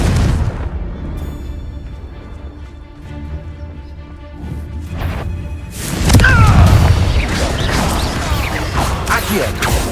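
A Confringo fire spell bursts in the video game Hogwarts Legacy, a loud booming blast around the six-second mark after quieter magical hums and chimes, followed by rumbling debris and crackling under a spoken voice.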